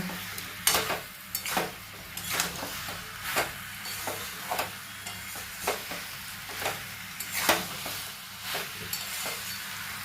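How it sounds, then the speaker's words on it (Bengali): Chana dal lentil fritters being stir-fried with spices in a pan, with a soft steady sizzle and a regular rhythm of spatula scrapes and taps against the pan, close and moderately quiet. "বড়া একসঙ্গে এটাকে মশলার সঙ্গে কষাই করে নেব, কষে নেব।"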